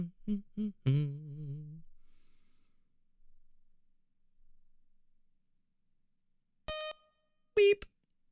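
Short electronic beeps sound from the video game World of Horror: a pair of brief, sharp tones near the end, alone in a quiet room after a voice-like warble earlier.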